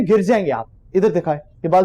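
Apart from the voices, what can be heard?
No distinct noise like a dog, phone or traffic.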